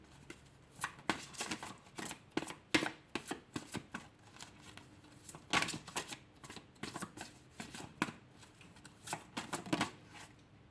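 Cards are handled and drawn from a deck, making a quick series of crisp flicking and riffling snaps in uneven bursts, close and fairly quiet, with no talking.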